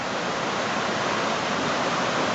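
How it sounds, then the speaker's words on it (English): Creek water rushes out of a culvert under a road as a dense, steady roar of flowing water, close and continuous with no other sounds. "This is coming off out of the culvert underneath the road."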